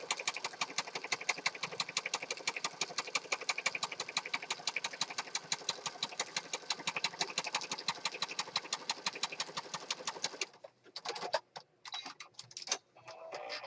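A sewing machine runs steadily for about ten seconds as it stitches down a paper journal page, giving a fast, even mechanical ticking. It then breaks into a few short, stop-start bursts of stitching.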